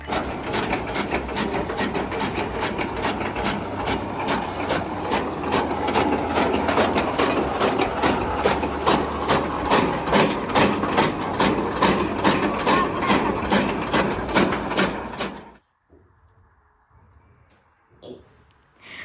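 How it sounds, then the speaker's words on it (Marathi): A new chaff cutter chops dry fodder stalks, giving a loud, even run of rapid rhythmic chopping thuds over a mechanical whirr for about fifteen seconds before it stops abruptly, leaving faint background noise. "नवीनच मशीन आणली आहे बघा कडबा कुटी म्हणतो आपण"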